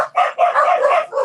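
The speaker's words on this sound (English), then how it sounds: "Yes, I have dogs. And they're very barky." Several indoor pet dogs bark loudly and close, a rapid run of overlapping yappy barks with a whiny edge, heard alone without talk.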